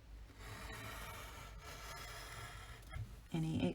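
Paper being trimmed off a scrapbook page: steady soft rubbing, scraping cuts running throughout, with a louder rustle near the end.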